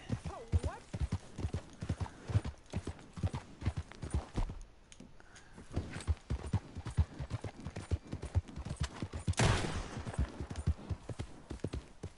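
Rhythmic clip-clop of horse hooves trotting steadily in Red Dead Redemption 2, with a brief lull midway and a voice talking over the hoofbeats.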